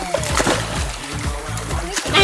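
An otter splashing in water in the jungle near Pucallpa, repeated close splashes and sloshing with a voice and other speech mixed in.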